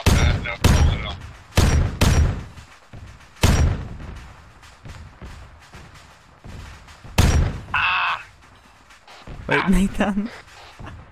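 Gunfire in the military game Arma 3: several loud, sharp shots and short bursts scattered irregularly, with players talking over and between them.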